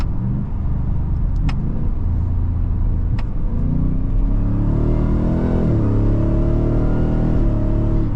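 A 2024 Ford F-150 Raptor R, a 720-horsepower, 6,000-pound truck, is driven down a back road with paddle shifts, its engine rumbling loud and close in a steady drone that steps up in pitch as it revs through the gears.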